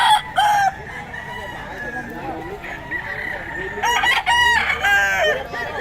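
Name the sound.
roosters (stags) crowing and clucking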